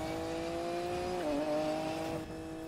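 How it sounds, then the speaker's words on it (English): A widebody BMW M4 in Need for Speed Payback holds a loud, steady engine drone that dips briefly mid-way as if shifting, then carries on with a whine over road noise, no talk. "This car sounds absolutely crazy."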